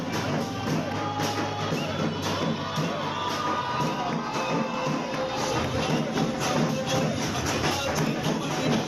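A large crowd celebrates a BJP municipal election win in Chhatrapati Sambhajinagar, a dense continuous roar of voices and cheering with drum-like thumps underneath, loud and close throughout.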